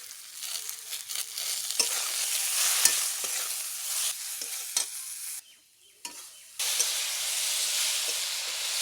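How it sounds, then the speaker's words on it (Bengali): Okra sizzles and hisses in a hot pan as it is stir-fried with salt and turmeric, with a spatula scraping repeatedly. The loud frying steam drops out briefly before returning just as strong. "এবার ভেন্ডির মধ্যে স্বাদ মতো লবণ দিয়ে দেব আর পরিমাণ মতো হলুদ দিয়ে বেশ সুন্দর করে কষে নেব।"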